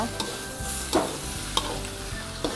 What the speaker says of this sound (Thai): เอากุ้งลงไปเลยนะคะ ผัดต่อเลยค่ะ ไฟไม่ต้องแรงมากนะคะ